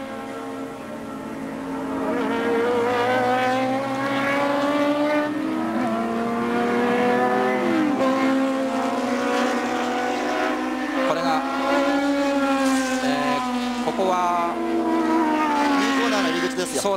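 Race cars speed around the Fuji circuit during a 250 km race, a loud continuous engine roar with shifting pitch as machines pass, sustained throughout.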